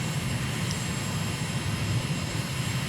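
A jet airliner in Microsoft Flight Simulator approaches a runway in Nassau, Bahamas, to land, giving a steady, loud engine drone with a low rumble throughout and no other sounds.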